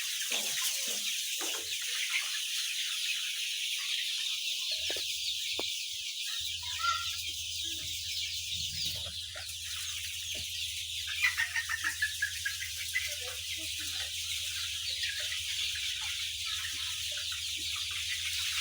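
Farm chickens about six weeks old cluck and chatter together in a poultry house. The sound is faint but continuous, with a low steady hum underneath.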